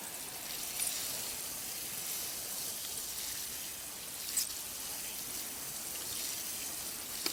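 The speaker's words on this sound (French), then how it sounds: "il faut bien arroser. Une première fois, on laisse pénétrer l'eau." Water pours steadily over freshly sown sweet corn seeds in garden soil, a continuous soft splashing hiss close by with a few brief louder spatters and no talking.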